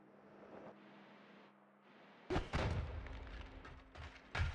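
Explosion in the Noita video game, a sudden loud blast followed by rumbling debris and a few sharper cracking impacts from a shockwave breaking glass or ice, after a quieter stretch of low game ambience.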